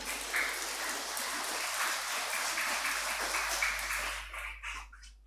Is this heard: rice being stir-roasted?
no